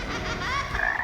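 A frog croaks close by in a short burst of raspy, rattling calls rising toward the end, clear and alone with no talk.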